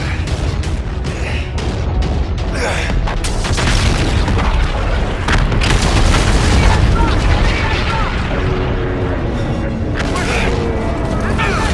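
Explosions and weapons fire from the video game Call of Duty: Infinite Warfare form a loud, dense, continuous barrage of booms and blasts, with shouted voices mixed into the chaos.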